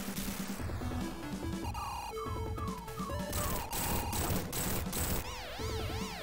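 Boss firing missiles in the video game Sonic 3D Blast, a dense barrage of loud electronic blasts, descending laser-like tones and warbling sweeps layered over busy game music, with no voices.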